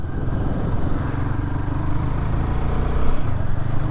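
A 2025 Royal Enfield Guerrilla 450 motorcycle engine hums steadily up close while riding, a constant low drone with a slight rise near the end.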